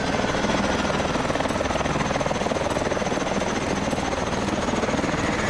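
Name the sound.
helicopter in video game Call of Duty Advanced Warfare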